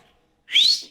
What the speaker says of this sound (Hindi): आप बहुत अच्छा सीटी बजाती है। एक बार सीटी बजाओ ना।